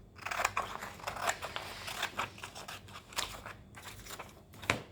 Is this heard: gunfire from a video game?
no